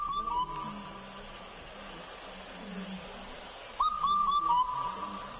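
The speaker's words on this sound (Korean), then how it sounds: "검은등 뻐꾸기." An Indian cuckoo gives a phrase of four whistled notes, then repeats it after a pause, over a soft outdoor background.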